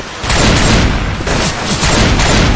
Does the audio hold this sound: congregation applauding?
no